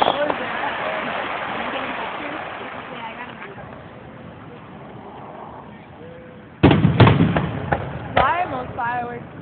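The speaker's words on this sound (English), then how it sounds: "Fireworks, gold." Fourth of July fireworks crackle and boom at a distance, a continuous fizzing crackle followed by a sharper burst of bangs, with people talking over them.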